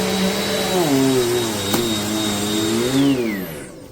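Amazon Basics upright bagless vacuum cleaner for carpet and hard floors running close by, a loud steady motor whine that dips and rises in pitch as it strains, then winds down at the end.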